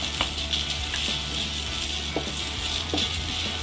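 An egg fries in a pan with macaroni while being stirred for Tamil-style egg macaroni, giving a continuous close hiss of sizzling oil with faint scraping stir sounds mixed in.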